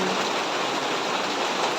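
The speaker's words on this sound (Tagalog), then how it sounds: "kasi maingay yung ulan" Rain falls in a loud, even roar that holds steady with no break across the whole short stretch.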